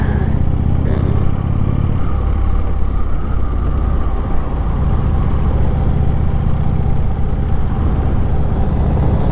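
Steady engine drone of a 2018 Indian Chief Dark Horse motorcycle on the move, a constant loud rumble with wind noise and no pauses.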